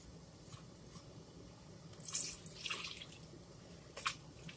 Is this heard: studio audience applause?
no